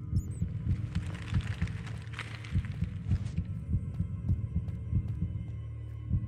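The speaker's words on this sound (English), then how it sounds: "My heartbeat thing's going crazy." The heartbeat sound effect in the Minecraft Decked Out 2 dungeon game throbs in a steady, rapid, low double pulse under a droning hum, with brief game noise at the start.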